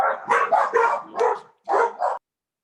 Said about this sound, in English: That's an angry dog.